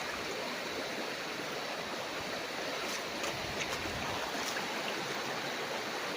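A clean, cold river beside a farm lot in Real, Quezon flows in a steady, soft rushing murmur nearby, with a few faint splashy ticks and no talking.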